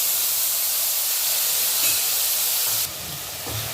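Ginger paste sizzles in hot oil with whole garam masala spices over a lowered gas flame, a steady close hiss that drops slightly in the last second.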